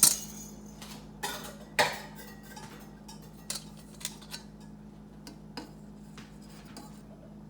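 A spatula folds flour and baking powder into cake batter in a bowl, giving a series of irregular clinks and scrapes against the dish, close and fairly quiet, with no talking.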